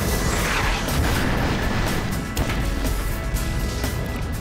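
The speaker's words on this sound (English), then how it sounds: "we could see the mixture of creamer and air explode violently" A coffee creamer dust cloud ignites in a dense, roaring blast of broadband noise that holds steady for several seconds, loud and close, with no voices.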